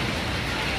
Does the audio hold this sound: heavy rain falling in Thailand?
yes